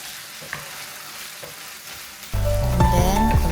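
Pork frying in a pan: a low, quiet sizzle for a couple of seconds, then a sudden loud burst of hissing and crackling as soy sauce is poured in.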